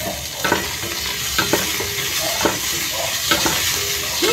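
Onion sautéing in oil for spaghetti sauce, a loud, close sizzle with rhythmic scraping strokes of a spatula against the pan roughly once a second.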